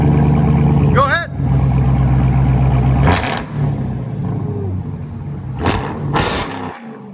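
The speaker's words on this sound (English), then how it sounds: "he opened the valve. You can hear it." A straight-piped Dodge Challenger Hellcat Redeye with its exhaust valve open, idling with a deep rumble and blipped into several sharp, loud revs, with people talking over it.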